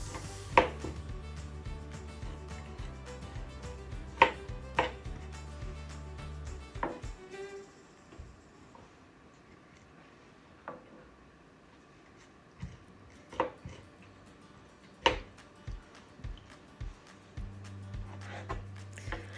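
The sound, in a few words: thinly slicing citrus fruit peels for marmalade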